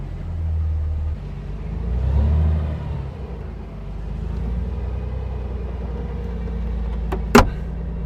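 The world's first supercar, an old car long left unused, creeps in reverse under its own power: a low, steady engine rumble that swells briefly, then settles, ending with a sharp mechanical click.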